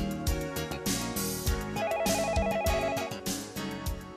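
A telephone rings back after an emergency panic-button call, a loud electronic ringing pattern that repeats steadily, with no voices over it.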